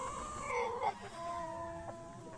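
Hens cluck softly on a farm set in a forest, a few short calls and a drawn-out cluck rising over a steady low outdoor background, with no voices.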